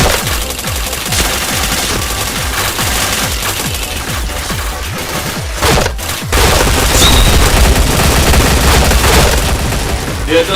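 Dense, rapid bursts of video game gunfire spam bullets continuously, with booming hits layered in, loud and close, a brief dropout near the middle before the shooting resumes even louder.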